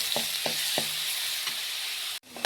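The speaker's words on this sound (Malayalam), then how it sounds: "അത് ചൂടായി നമുക്ക് ഇഞ്ചി വെളുത്തുള്ളി പേസ്റ്റ് ഇട്ട് കൊടുക്കാം." Ginger garlic paste sizzling in hot oil in a cheena chatti for chicken curry, a loud continuous hiss with a few soft spoon taps, cutting off abruptly near the end.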